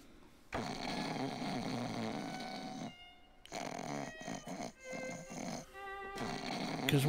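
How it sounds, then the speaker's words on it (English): Loud, drawn-out snoring from a character in the video game Grim Fandango, long rumbling breaths broken by brief pauses, close and prominent with no talking over it. "prepare yourself for the snoring noises"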